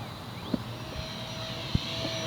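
A small Hobby King Hummer electric control-line model airplane on 11.1 volts drones steadily overhead with a high motor whine, a few soft thumps and clicks breaking through the continuous buzz.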